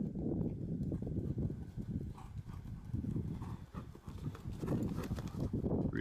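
A ridden horse's hooves clip-clop steadily in a rhythmic gait, close and continuous over low rumbling background noise, with no clear talking.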